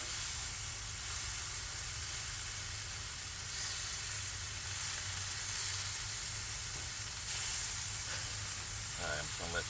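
A cheesesteak sizzles on a Blackstone griddle set to low, a steady bright frying hiss that runs unbroken throughout, with a faint clatter near the end.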